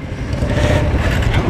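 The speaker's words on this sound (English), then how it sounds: "Now let's crank the motorcycle." A Royal Enfield Himalayan motorcycle engine runs close by, a steady low rumble that builds slightly in strength over the short stretch.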